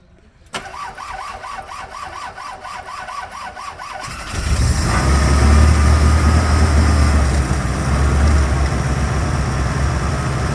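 A 1971 BMW 2002, revived after sitting ten years, cranks over rhythmically with the choke fully out, then catches and roars to a loud, rough, steady run close by.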